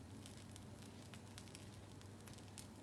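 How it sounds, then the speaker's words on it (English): Thin batter sizzles on a banana leaf in a home kitchen pan, a faint, steady crackling hiss with small scattered pops throughout. "You can still hear the sizzling."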